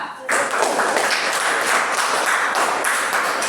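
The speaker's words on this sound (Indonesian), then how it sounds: "beri tepuk tangan untuk kelompoknya lupa" A classroom breaks into applause for a student group, starting abruptly after a brief pause and continuing as loud, close, rapid clapping from many hands.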